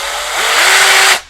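A Parkside PABH 20Li B2 cordless rotary hammer drill runs close and loud in one steady burst with a faint rising whine, then stops abruptly.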